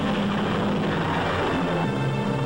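A World War II C-47 transport airplane's engines give off a loud, steady droning roar that holds throughout with no talking.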